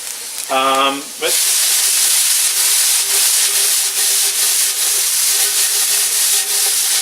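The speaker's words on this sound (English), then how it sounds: "that corn's been roasting for a few minutes, and I can just see it starting to color, so we're going to give this pan a shake" Corn kernels roasting in a hot pan are shaken, giving a steady, dense sizzling rustle that runs loud and unbroken after a brief word from a voice at the start.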